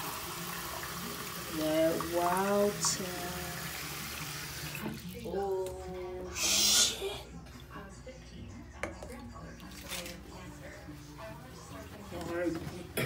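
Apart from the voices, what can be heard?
water running from a hotel coffee maker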